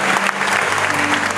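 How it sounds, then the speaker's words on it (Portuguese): A church congregation applauds loudly and continuously, a dense close wash of clapping filling the whole moment with no speech. "aplaudindo ao Senhor, exaltando."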